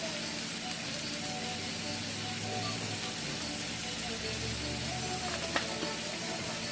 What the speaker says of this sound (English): sauteing in some olive oil